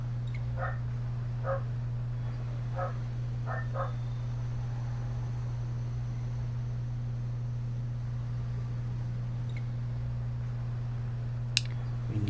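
Dog barking in the Broken Sword video game: several short, distant bark bursts in the first few seconds, then a long stretch of steady background hum with a faint click near the end.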